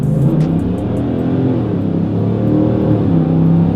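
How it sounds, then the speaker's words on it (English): A Ford F-150 single cab pickup truck rumbles loudly and close by, its engine held around 2000 RPM before a launch, with a deep, steady roar and no speech. "we're gonna go ahead and do a 2000 RPM launch"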